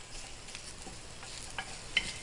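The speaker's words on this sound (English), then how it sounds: "we're going to throw our ribs in, and we're just going to brown them a little bit" Pork ribs brown in a hot wok, a soft steady sizzle with light scraping and occasional small pops, fairly quiet and alone.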